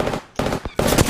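Bursts of rapid automatic gunfire in Apex Legends, loud and close, in three quick volleys separated by brief gaps.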